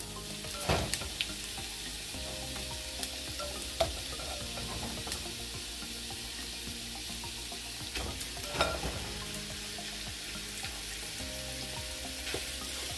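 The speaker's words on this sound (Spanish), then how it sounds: "en este momento ya le voy a agregar la carne molida" Seasoned ground beef with onion frying in a pan, a steady sizzle broken by scraping stirs and occasional clacks from the utensil, with no talking.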